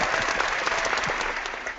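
Applause from an audience during a workplace chat, a dense, steady burst of clapping at moderate loudness, brief and continuous without pause.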